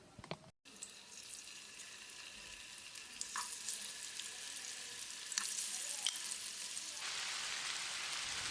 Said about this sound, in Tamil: பேனில் 2 டேபிள் ஸ்பூன் தேங்காய் எண்ணெய், நம்ம மேரினேட் பண்ணி வச்சுருந்த இறாலை இதில் போட்டு ஃப்ரை பண்ணணும்.